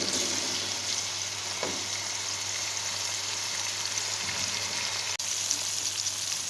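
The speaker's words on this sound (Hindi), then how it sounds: "इनको भी तकरीबन 1 मिनट तक हम प्याज को और टमाटर को ऑयल में अच्छी तरह भून लेंगे" Onion and tomato frying in oil for a village-style potato and carrot vegetable dish, an even close sizzle lasting throughout, with a faint scrape and a brief click, no talk.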